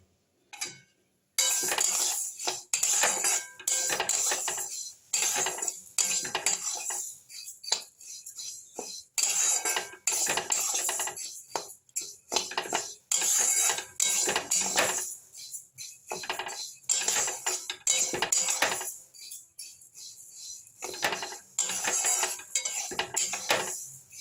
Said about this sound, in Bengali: ডালগুলো আমি দিয়ে দিলাম কড়ার মধ্যে। ডালটাকে বেশি চুনিয়ে ভাজলে কিন্তু খেতে ভালো লাগবে না